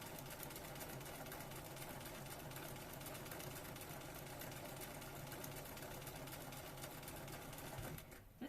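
Continuous close hum of a sewing machine stitching a Regency dress, steady and unbroken for about eight seconds before slowing to a stop.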